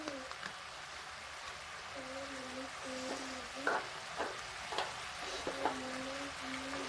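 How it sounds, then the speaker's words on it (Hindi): Spice masala with black pepper roasting in a pan for radish-leaf kofta, a soft continuous sizzle broken by a few sharp spatula scrapes and clinks, faint and close. "और इस मसाले को हम भूनेंगे"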